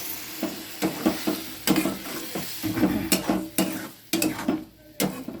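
Water goes into sautéed spices in a pan for a tilapia curry with potatoes and beans, with bursts of sizzling and a spoon scraping and stirring in uneven strokes, close up and with no talking.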